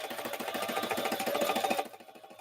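A sewing machine runs fast, stitching together large fabric panels for a 35 by 14 foot curtain, its needle chattering in a rapid, steady mechanical rhythm up close before stopping abruptly near the end.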